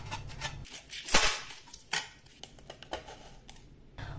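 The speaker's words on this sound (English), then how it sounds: "Using a heavy knife helps to chop things easily and also very fast with not much pressure required." A heavy kitchen knife chopping vegetables such as cauliflower, onions or coriander, giving a few uneven close knocks on a board with scraping and handling noises between them and no voices.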